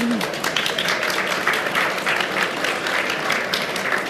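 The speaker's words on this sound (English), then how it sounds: "If you give them a round of applause." Audience applause at a panel talk on the sound of the family film The Magic Faraway Tree, honoring its dialogue editor, foley artist and sound supervisor; steady, dense clapping fills the room for about four seconds with no voices.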